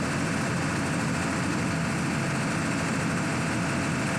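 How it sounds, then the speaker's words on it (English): A Cummins 6BTA 100 kVA diesel generator running under load, a dense, constant engine drone with broad rumble and hiss, loud and close, steady throughout with no talking. "Generator is at running position"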